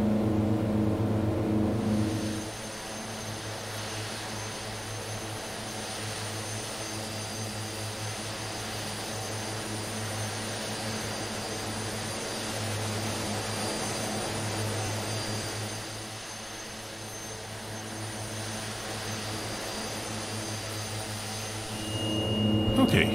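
Twin Otter turboprop engines drone steadily during a climb in a flight simulator game, a broad continuous engine roar with a faint high whine that dips briefly midway, and someone speaks over it.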